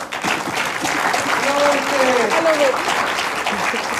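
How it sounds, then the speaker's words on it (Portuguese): Studio audience applauding a returning guest on a late-night talk show, a dense steady round of clapping from a crowd, loud and close, with some voices mixed in. "Uma salva de palmas para ele."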